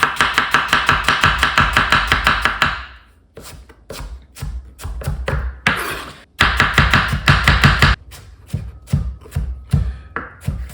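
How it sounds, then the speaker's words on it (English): Pieces of apple rough-chopped with a knife on a board, rapid loud rhythmic chops in bursts with short pauses and scattered slower cuts between, close up and without talk. "So I just rough chop these"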